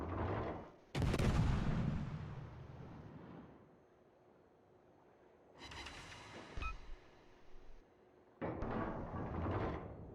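Warship guns firing in World of Warships: heavy booming salvos with long rumbling decay, one big blast early, then two more clusters of shots later, fairly distant and spaced by quieter gaps, with no voices.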